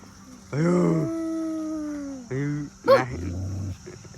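A dog close by lets out a long, drawn-out whining call, then a shorter one and a brief sharp yelp, fairly loud against a quiet background.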